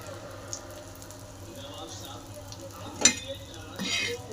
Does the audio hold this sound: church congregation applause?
no